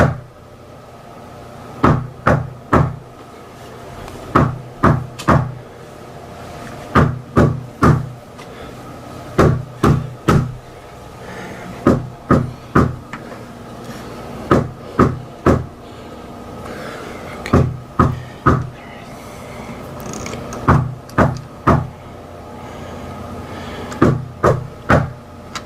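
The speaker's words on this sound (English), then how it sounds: "There's been someone knocking at my front door for the last 10 minutes or so" Repeated knocking on a front door, in steady groups of sharp knocks that repeat the same pattern over and over, loud and close, with no voices.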